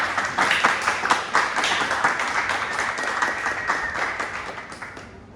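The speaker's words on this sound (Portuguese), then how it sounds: "Palmas para eles." An audience at a hackathon pitch session clapping for a team, a close, steady round of individual claps that gradually thins and fades out at the end.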